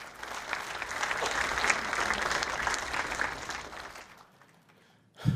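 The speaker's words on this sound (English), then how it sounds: "a round of applause" An audience at an Indigenous speaker event applauds steadily for about four seconds, a dense clatter of many hands that fades out, then a brief loud bump at the end.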